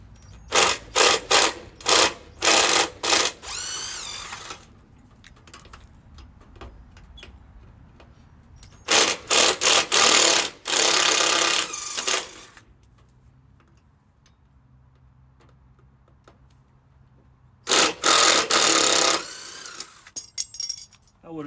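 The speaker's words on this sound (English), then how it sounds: "I really like these new little impact screwdrivers." Small impact screwdriver backing out screws on a mast tabernacle, loud bursts of rapid hammering clatter in several separate runs, broken by quiet pauses and faint handling noise.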